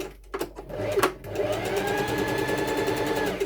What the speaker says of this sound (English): I just want to test this stitch, so I'm just going to put my presser foot down